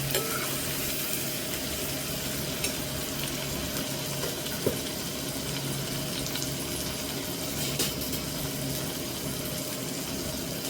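Tomatoes frying in oil with cumin, mustard seeds, turmeric, chilli powder and salt, a steady close sizzle with occasional stirring scrapes and small pops throughout.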